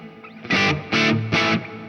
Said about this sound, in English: So let's try with the reverb.